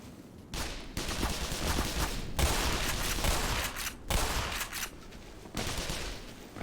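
Shotgun fire in a video game, sustained bursts of rapid blasts that come in loud waves, separated by short gaps.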